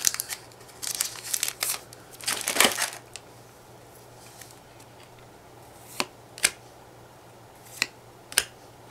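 A Cardfight!! Vanguard booster pack wrapper, from the Requiem at Dusk extra booster, crinkles and tears in close, loud bursts over the first three seconds, followed by a few sharp isolated crackles near the end.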